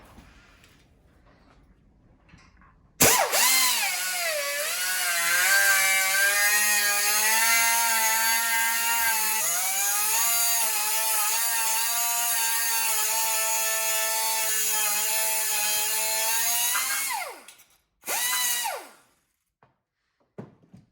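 A cutoff wheel grinds through a bolt on a Can-Am X3 XRC, a loud close high-pitched whine that sags in pitch as it bites into the metal, runs steadily for about fourteen seconds, then stops, followed by one short final burst.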